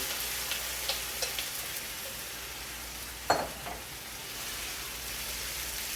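Tomato puree hitting a hot pan for a healthy tomato sauce, a steady broad sizzle and fry hiss throughout, with a few faint ticks and one sharper clatter midway, no talk.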